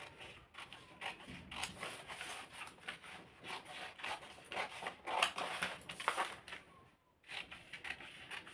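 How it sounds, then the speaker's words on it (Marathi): Scissors cutting blouse fabric, heard as quiet, rhythmic snipping and rustling strokes close by, repeating steadily with a short pause near the end. "हिला कापून घेते."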